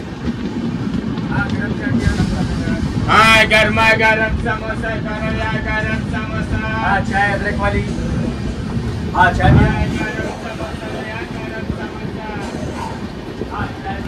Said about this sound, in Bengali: এর মধ্যেও ট্রেন চলছে, সামনে কিচ্ছু দেখতে পাচ্ছেন না ড্রাইভার, তার মধ্যেও ট্রেন চলছে আস্তে আস্তে